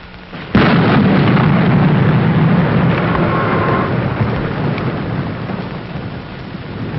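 A violent thunderstorm with a sudden sharp thunderclap that rolls into a long, loud rumble over steady heavy rain, filling the whole space.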